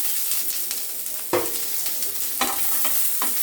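Onions and garlic cloves frying in oil in a pan while kochur bharta is being made, a soft steady sizzle broken by several sharp spatula scrapes and stirs, close up with no speech.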